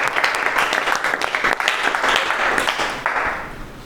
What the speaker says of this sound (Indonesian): kasih aplaus temennya